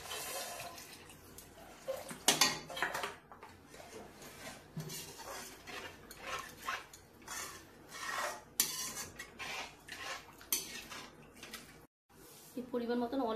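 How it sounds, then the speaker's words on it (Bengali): Water is poured into a pot of cauliflower curry with fried, cooked-down spices, giving splashes and metal clinks of a utensil against the pot, with someone speaking over it. "এবারে আমি জল দেবো।"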